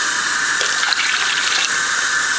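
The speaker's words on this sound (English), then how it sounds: "you want to make sure that you add enough water like to the top" Water gushes from a tap into a pot being filled for a Spanish chicken soup, a loud, steady, close pouring rush that runs unbroken throughout.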